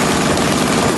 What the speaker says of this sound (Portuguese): E precisa sobrar combustível para esse combustível ir para o escapamento e soltar aquele famoso pipoco.